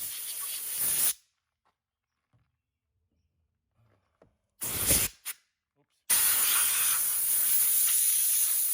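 Air blown over an exterior door trim piece of a third-generation Honda CR-V: loud bursts of hissing air, a short one, a brief double puff after a pause, then a longer steady blast, separated by near silence.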